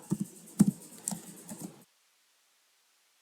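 Quick keystrokes on a computer keyboard while typing a SUM formula into an Excel spreadsheet, a short uneven patter of close taps and clicks that stops abruptly into silence.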